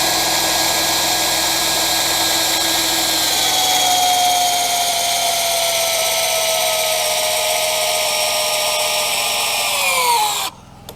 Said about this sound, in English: it is a hammer drill from DeWalt